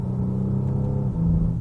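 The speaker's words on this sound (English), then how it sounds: "I kind of stuck to the paddles so I can let the engine wind out and hear the noise from that optional extra GT" A 2013 Bentley Continental GT Speed Le Mans Edition engine breathing through its optional GT Speed exhaust gives a steady, deep rumble that swells slightly, heard close and alone.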